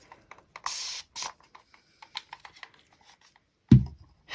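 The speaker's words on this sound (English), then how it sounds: "I can see a lot of bubbles on there actually, so I am going to spray this" Two short bursts of hissing aerosol spray onto resin to remove bubbles, close by, followed by scattered light clicks and a soft thud.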